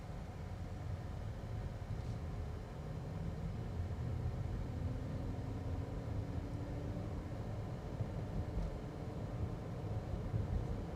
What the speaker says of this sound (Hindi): Right now I am driving around 50 kilometres per hour, 54 kilometres per hour speed है मेरी एग्जैक्ट एट दिस मोमेंट।